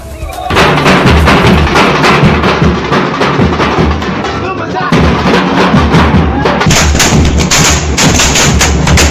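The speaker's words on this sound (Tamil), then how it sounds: "ரஜினி ரசிகர்கள் கூடி மேளதாளத்துடன் பட்டாசு வெடித்து மகிழ்ந்தனர்" Firecrackers burst in a loud, rapid string of sharp cracks, continuous for several seconds, with crowd noise and drumming celebration mixed in.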